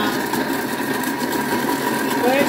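Vorwerk food processor blending banana, mango and other fruit into a smoothie, a steady loud motor whir with a buzzing hum, running continuously at close range.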